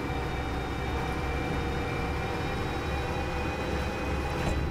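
A DE6 diesel locomotive from Derail Valley runs with a steady, droning engine rumble and a faint whine, unbroken and even throughout.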